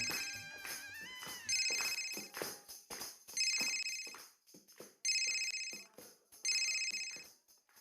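A telephone rings in a domestic Hindi drama scene, its electronic ringtone repeating in four loud bursts with short gaps, the first preceded by a few softer clicks and tones.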